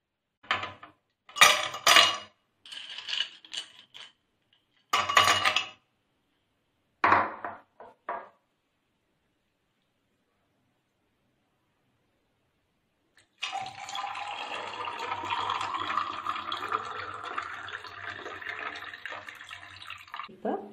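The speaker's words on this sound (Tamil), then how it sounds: "இப்போ இதை கிளாஸில் மாற்றிடலாம்." Mint lemon juice poured into a glass in a home kitchen, a steady liquid stream splashing for several seconds after a series of clinks and handling knocks separated by silence.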